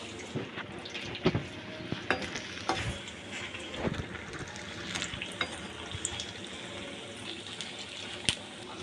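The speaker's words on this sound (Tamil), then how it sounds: "இப்போ இது நல்லா ஃப்ரை ஆகிட்டு இருக்கு" Bajji fry in hot oil with a steady close crackling sizzle, dotted with sharper pops and occasional stirring clinks.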